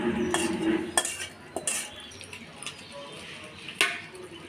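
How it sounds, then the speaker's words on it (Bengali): A spoon stirs chicken meat into khichuri in a pot for roasted chicken vuna khichuri, giving scattered metallic clinks and scrapes against the pot over a soft background hiss. "এখানে মাংসটা আপু খিচুড়ির সাথে মিশিয়ে নিচ্ছে"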